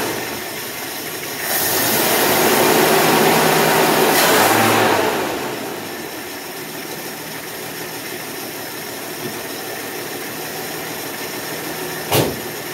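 A 1966 Dodge Dart slant six engine cranks and catches, running loud for a few seconds before settling into a steady, uneven idle, with a brief sharp sound near the end.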